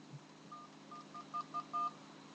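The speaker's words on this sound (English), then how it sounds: "You have keypad tones." A Samsung T401G phone gives short keypad beep tones, several quick electronic pips in an uneven sequence, faint and close against a soft background hum.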